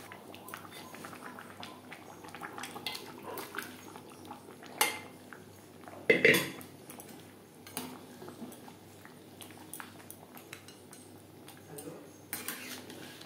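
Boiled potatoes go into a pot of mutton curry with scattered metallic clinks and scrapes of a spoon against the pot, including one louder clang, over a quiet background with faint voice-like sounds.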